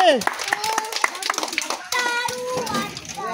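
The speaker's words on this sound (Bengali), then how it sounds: "সবাই হাততালি" Children clapping their hands after a game prize-giving, short bursts of uneven applause mixed with children's voices and an adult speaking nearby.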